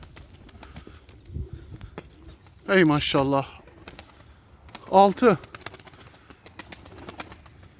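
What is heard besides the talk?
pigeons flying and cooing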